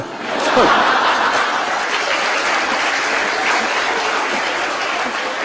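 Audience applause at a Burmese literary talk by the writer U Aung Thin, a dense, steady roar of clapping that swells in the first second and holds evenly throughout, with a few scattered chuckles mixed in.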